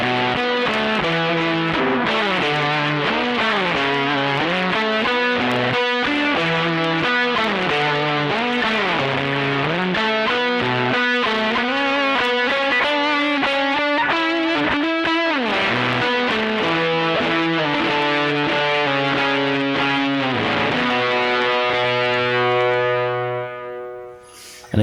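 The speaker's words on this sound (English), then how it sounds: "it just goes to just the fuzz and a tape delay" Electric guitar through a fuzz pedal and tape delay plays a melodic line, fuzzy and saturated, with echoing repeats trailing each note, loud and continuous until it fades at the end.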